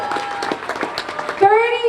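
Audience clapping for students receiving scholarship awards at a Cape Verdean flag raising ceremony, scattered hand claps building into fuller applause near the end, with talk and children's voices in the room.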